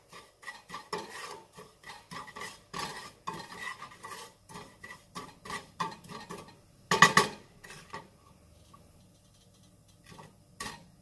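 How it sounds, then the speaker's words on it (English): A spoon stirring semolina roasting in a pan, making a steady run of short, close scraping and tapping strokes in an uneven rhythm, then a brief louder clatter of metal, then sparser taps. "The rava is well roasted."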